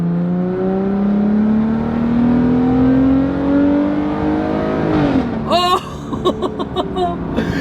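A lifted Jeep Gladiator's engine revs up steadily, pitch climbing for several seconds, then drops off with sharp throttle blips and popping bursts near the end.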